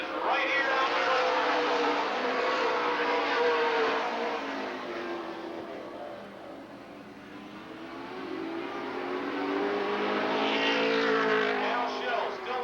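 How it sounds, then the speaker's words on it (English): Super late model race cars roar around the oval at Lake Geneva Raceway in Wisconsin, engines droning loudly, fading slightly mid-pass and swelling again as the pack comes around, with a commentator talking over them. "Landry Potter, who led most of last week's race, making a charge on the inside"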